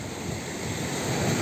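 Large, dangerous sea waves surging and crashing at the shore, a continuous broad roar with wind noise, fairly loud and steady with no talk.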